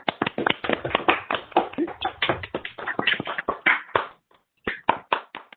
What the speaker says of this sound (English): Foulkes a nice round of applause.